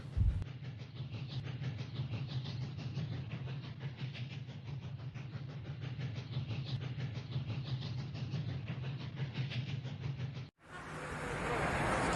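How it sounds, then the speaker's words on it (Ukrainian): A train rumbles along steadily with rhythmic clicking of wheels on the rails, moderately distant, ending abruptly into a brief rush of noise. "Як у нього стучать колеса."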